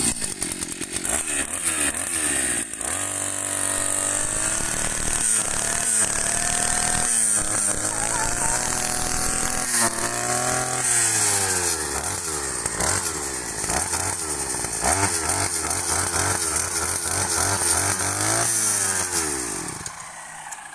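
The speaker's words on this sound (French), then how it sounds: "c'est vraiment une vidéo comment démarrer une débrousse" A two-stroke brush cutter engine runs loud and close, its pitch rising and falling as the throttle is revved again and again over a steady idle, with a short drop near the end.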